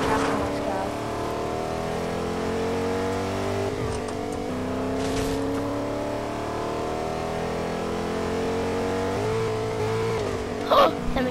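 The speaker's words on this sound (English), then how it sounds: "Time to get in the semi truck and let's go." A semi truck in Fortnite drives with a steady engine drone whose tones slowly rise and fall as it revs, accompanied by a few short bumps and clatters near the end.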